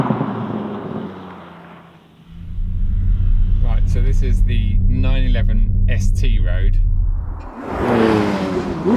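A Porsche 911 ST climbs a mountain pass with a deep, steady engine rumble heard from inside the car. The drone swells and holds, then eases, and someone talks over it.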